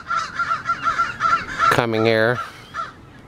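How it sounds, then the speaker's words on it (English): Crows caw repeatedly at Virginia Lake in Reno, a string of harsh calls near and clear, one long drawn-out caw standing out, with a person talking over the birds. "I find bird sounds very comforting."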